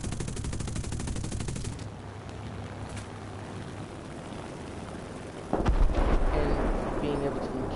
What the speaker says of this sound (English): Armed typically with eight 50 caliber Browning machine guns